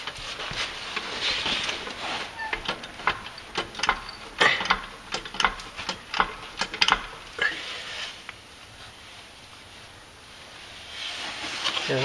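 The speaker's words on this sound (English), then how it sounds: "At this point, we're ready to raise the axle back up." A jack ratchets under a 1999-2004 Jeep Grand Cherokee to raise the axle, a series of sharp metallic clicks and clanks in an irregular rhythm, close by, tapering off into quieter mechanical noise.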